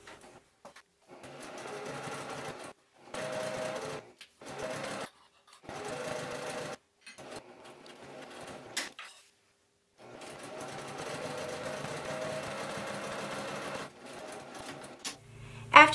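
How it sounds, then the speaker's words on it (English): A sewing machine top-stitches a bag handle seam in a run of short, quiet bursts with brief gaps between them, then one longer steady run near the end. "you're gonna top stitch both of the length sides with 3/8 inch seam allowance to attach the accent to the handle"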